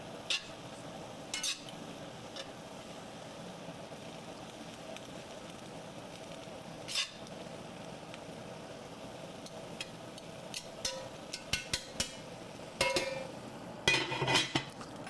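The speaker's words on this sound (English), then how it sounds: "We'll give this braised cabbage another stir." Braised cabbage is stirred in a pot on low heat, giving faint, occasional scraping and clinking stirs over a quiet, steady simmering background.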